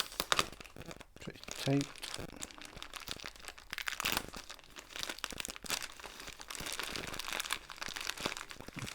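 A plastic package bag from an AliExpress order being cut open and crinkled, with rustling and tearing bursts throughout, while a person talks briefly.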